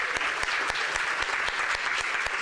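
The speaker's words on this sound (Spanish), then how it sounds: "Nuevamente ese aplauso para la doctora." An auditorium audience at a public policy seminar applauds a doctor after her lecture, a dense, steady wash of clapping with sharper individual claps standing out.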